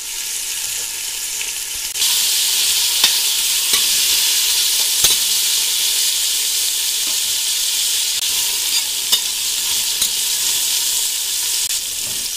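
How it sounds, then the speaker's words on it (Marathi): Sliced capsicum and lengthwise-cut carrot sizzle steadily in hot oil, a dense, even frying hiss that grows louder after a quieter opening, with occasional sharp pops and light stirring clicks, and no voices. "तर मित्रांनो इथे आपल्याला शिमला मिरची आणि गाजर थोडं फ्राय होऊ द्यायचं आहे।"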